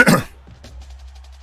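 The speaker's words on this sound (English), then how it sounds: "just cannot clear my throat" A single short, raspy throat clearing up close, followed by a faint trailing hum.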